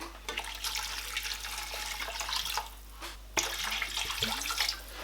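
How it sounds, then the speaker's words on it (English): Hot water poured from a kettle into a cooking pot of seasoned sauce with Nigerian mixed seasoning and dry chili, a steady splashing stream with a brief break midway before it resumes, no voices. "I'm going to add hot water"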